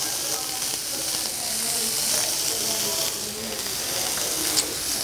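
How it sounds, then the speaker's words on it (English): Garlic, onions and fresh rosemary and thyme sizzle steadily in a hot pan, a continuous close frying hiss with faint crackles throughout, no talking. "we're going to let this saute for a good minute to 2 minutes until the onions start to get translucent"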